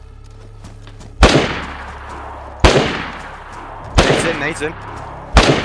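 Gunfire and grenade blasts in the video game DayZ during a compound raid: four sharp, loud explosive cracks spaced about a second and a half apart, each with a decaying tail, over a low hum, with a brief spoken word.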